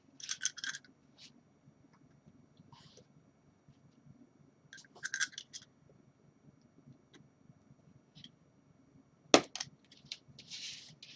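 Hobby knife cutting a plastic part from the sprue of a Classic Routemaster bus model kit: sparse, faint crisp snips and clicks at irregular intervals, with one sharper snap near the end.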